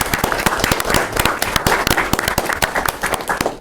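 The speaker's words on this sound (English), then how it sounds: "So let's give a little round of applause to the Tuesday Club." A small crowd at a town Board of Selectmen meeting gives a short round of applause, with sharp, closely spaced hand claps that sound near and fairly loud and then trail off.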